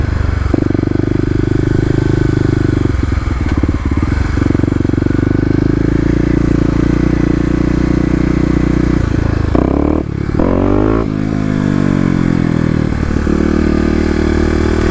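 A Kawasaki KLX250 dirt bike with an EJK fuel controller revs loudly and accelerates hard in first gear on a run-by, its engine note rising in pitch, cutting off briefly, then climbing again with some rattle and scrape.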